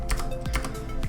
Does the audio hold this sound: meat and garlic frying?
no